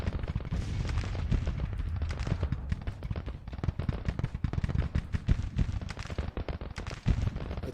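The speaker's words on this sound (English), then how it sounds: "Cooper's guns, or actually that was James's guns are firing." Rapid, dense bursts of artillery fire from Civil War era cannons in the strategy game Grand Tactician, a steady barrage of booming shots with overlapping reports across the whole stretch and no talking.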